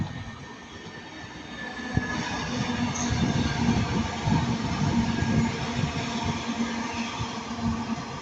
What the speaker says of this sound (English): first passing by now is a 331